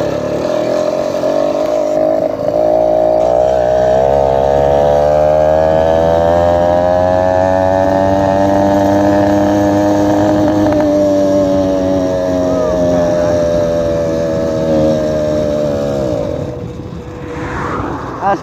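A small motorbike revs hard on a highway at full throttle, its engine note climbing steadily in pitch, holding a loud, close drone for many seconds before easing off near the end.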